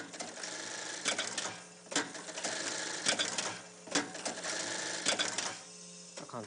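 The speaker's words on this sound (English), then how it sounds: "A sewer can sew buttons easily by setting up the fabric and using the foot switch." A button sewing machine stitches buttons onto fabric when triggered by a foot switch, giving bursts of rapid mechanical clatter with sharp knocks between cycles and a steady motor hum underneath, close and moderately loud.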